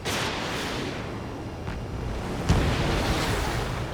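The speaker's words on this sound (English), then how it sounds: "Strider 3 launching missile." A missile launching in the aerial combat game Ace Combat 7, heard as a roaring, whooshing rumble under steady loud jet and wind noise, with a sharper burst midway.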